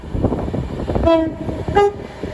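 An Avanti West Coast electric train from London Euston arrives at Watford Junction, rumbling on the rails as it sounds two short horn blasts in quick succession.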